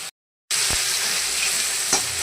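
Spice masala for a fish curry frying and being stirred in oil, a dense loud sizzle after a brief silence, with a couple of sharp utensil scrapes.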